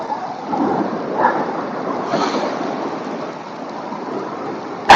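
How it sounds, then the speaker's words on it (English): Light rain on a Saturday morning work commute, a soft, steady outdoor hiss that holds evenly throughout with no voices. "So kind of a light rain."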